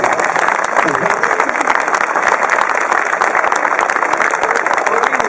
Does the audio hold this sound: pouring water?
no